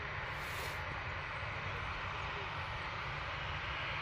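A Ryanair airliner passes overhead at Manchester Airport, its steady broadband jet roar filling the whole stretch at an even loudness, with a brief hiss early on and no speech.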